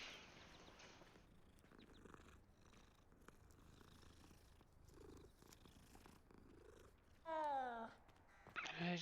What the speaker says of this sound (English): Interact with the cat.